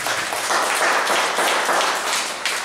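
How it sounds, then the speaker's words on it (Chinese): Audience applause at a Taiwanese panel event after two speakers finish, a dense, steady wash of many hands clapping that holds fairly loud for the whole stretch with no talk over it. "给个掌声好"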